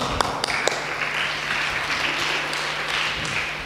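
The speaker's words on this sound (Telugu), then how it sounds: "ఒకసారి నిద్రపోయిన గట్టి చప్పట్లు కొడదాం" A church congregation clapping loudly during a Telugu Catholic sermon: a few sharp early claps swell into a continuous wash of applause that carries on evenly, nearby and fairly strong.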